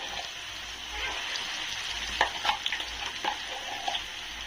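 A ground raw-mango mixture fries in a pan for a quick pickle, giving a quiet, steady sizzle broken by scraping stirring clicks from a spatula midway through.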